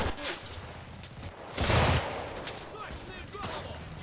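Automatic fire from a PPSh submachine gun in the Enlisted shooter game, a loud burst of gunfire swelling midway through amid other battlefield shots.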